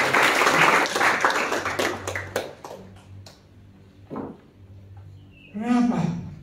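A church congregation at a Sunday service at a theological college in Tawangmangu breaks into brisk applause. The clapping is loud for about three seconds, then fades into quieter sounds, and a voice comes in near the end.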